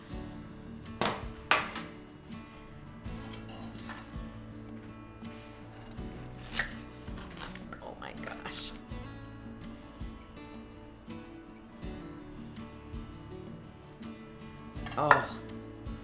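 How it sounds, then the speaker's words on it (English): A knife cuts through a pot roast sandwich on a board, giving a few scattered knocks and scraping crunches with quiet clatter between them. "I'm gonna cut this in half"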